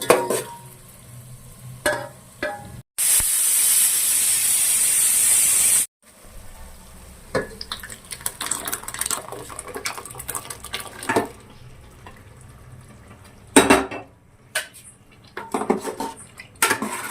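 Pots and utensils clatter and scrape while cooked dal is poured into a pot of boiling vegetables and drumsticks for sambar, with a loud gushing pour in the middle and steady stirring and ladle knocks around it.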